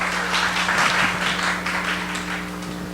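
A congregation at a Korean Friday night prayer service applauds together, a continuous, fairly even patter of clapping over a low electrical hum that holds steady throughout.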